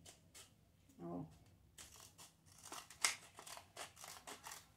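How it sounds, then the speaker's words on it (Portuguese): Small scissors snip through a plastic PET bottle, a run of short crisp cuts and crackles, close and moderately loud, with faint voice-like murmur early on. "Coloca aqui a ponta da tesoura. É bom a tesoura pequena"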